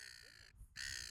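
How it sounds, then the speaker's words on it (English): Seagulls calling outdoors, a brief pair of harsh, faint cries separated by a short gap. "We've got the beautiful songbirds of the seagulls behind us for those listening at home."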